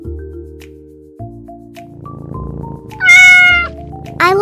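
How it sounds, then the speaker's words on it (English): A small cat meows several times in a row, the calls rising and wavering, loud and close, with no talk over them. "A little cute cat."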